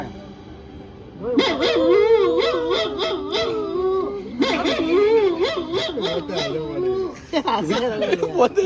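A man imitates a barking, howling dog, voicing repeated wavering yelps and howls in three long bursts with short pauses between them.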